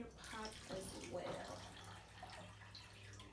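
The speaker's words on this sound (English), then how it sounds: "2 cups of water. Pour that in your pot as well." Two cups of water being poured into a cooking pot, a steady splashing gush lasting several seconds, fairly faint.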